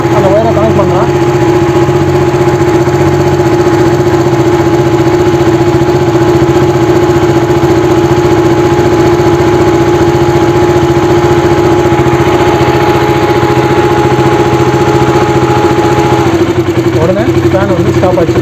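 A KTM Duke 200 motorcycle idles loudly and steadily up close while its radiator fan whirs along, and the fan's tone drops out near the end as the engine keeps running, with a person talking briefly at the start and near the end.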